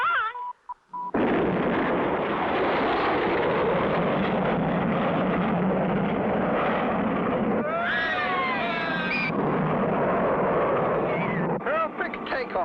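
A cartoon rocket blasts off in a sustained, loud roaring rush that runs unbroken for many seconds, with brief warbling whistles rising over the roar near the end.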